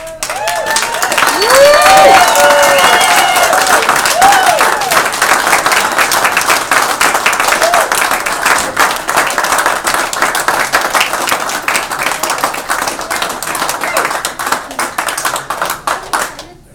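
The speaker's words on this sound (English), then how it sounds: "give a big round of applause" At a foosball hall of fame induction, an audience delivers long, loud applause with a few whistles and cheers early on, holding strong for over sixteen seconds before fading at the end.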